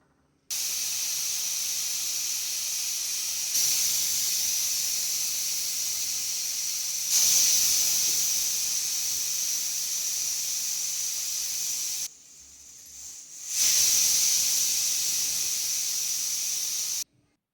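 A pressure cooker of brinjal vents a loud, continuous steam hiss that swells in several surges and briefly drops away once before hissing hard again.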